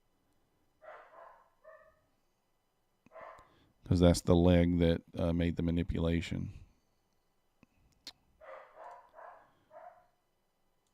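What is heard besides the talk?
dog barking in the background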